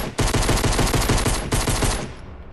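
Rapid automatic gunfire from a battle royale video game, a dense loud burst of shots lasting about two seconds before trailing off, with no talking.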